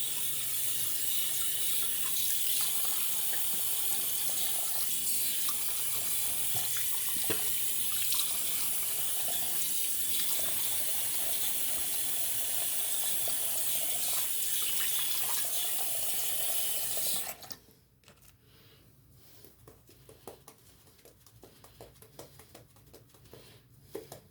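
A bathroom tap runs steadily with a loud, close, hissing stream of water for about seventeen seconds, then shuts off, leaving quiet dripping and faint splashes as a face is wetted for shaving.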